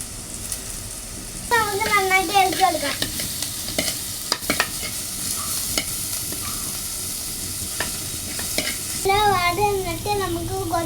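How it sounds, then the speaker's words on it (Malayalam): Onions go into hot oil in a pan and fry with a steady close sizzle, broken by scraping stirs and clatter, while some chirpy tonal sounds come and go. "ഇനി നമുക്ക് എണ്ണ ഉള്ളി ഇടാം"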